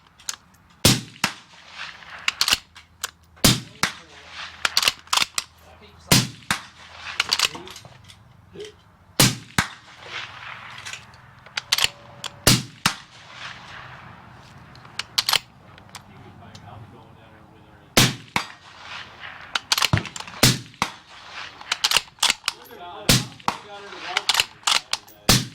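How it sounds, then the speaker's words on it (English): Sharp, loud rifle shots from a Uintah Precision UPR-15 in .223 ring out one after another at a long-range shooting session, spaced a second or two apart with occasional quick pairs, while someone talks between them. "I'm going to be shooting out to probably 500 yards today"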